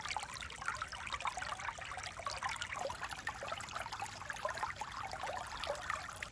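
Water trickling and splashing through a stream beside a full-time trailer site in Canada, a faint, continuous hiss and burble heard close by, with no talk.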